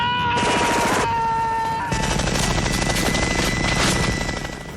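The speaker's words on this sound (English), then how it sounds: "Shooting those many bullets coming through that gun" A machine gun fires a long run of rapid shots on the 1987 Predator film set, a dense loud rattle that pauses briefly and then resumes over a constant mechanical whine.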